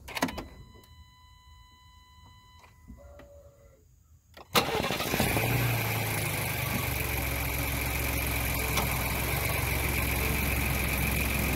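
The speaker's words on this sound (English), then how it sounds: "We'll start the engine." A Ford Bronco Outer Banks with a 2.7L turbo engine cranks and fires after a few quiet seconds of clicks and chimes, then settles into a loud, steady idle close by.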